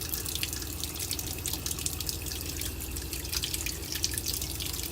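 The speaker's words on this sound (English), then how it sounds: "that hot water should be getting out there" Hot water runs steadily from a tap with a constant close hiss and splash, scattered drips and gurgles on top. It stays even throughout with no voices.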